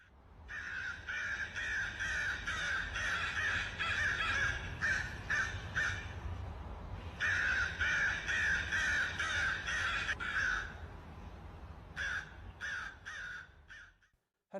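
Crows caw repeatedly near a flag outdoors, harsh calls in long bursts over steady background hum, with pauses between runs, fairly close and clear.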